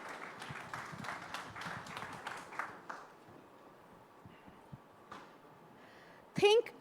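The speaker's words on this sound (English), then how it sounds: "A huge round of applause," Audience applause at a tech summit session, a scattered burst of clapping in the first few seconds that fades out, followed by quieter room noise and a brief loud sound near the end.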